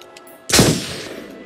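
A single loud gunshot goes off in the Until Dawn horror game, a sharp close crack that decays into a short echoing tail after a quiet moment.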